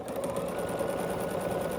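A sewing machine runs steadily, stitching diagonal lines across a small quilted fabric heart, its fast, even needle rhythm close and continuous throughout with no pauses or talk.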